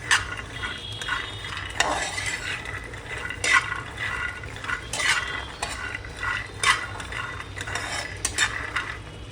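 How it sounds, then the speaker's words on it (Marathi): Peanuts dry-roasting in a pan are stirred with a metal spoon, giving repeated scraping and rattling strokes at an uneven pace over a faint sizzle, close by and with no voices. "आपण शेंगदाणे परत भाजायला टाकलं आहे"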